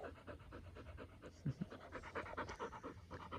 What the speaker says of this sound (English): stop panting